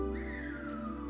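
A single Silbo Gomero whistle, one steady tone that rises and then glides slowly down, sounding faint and alone.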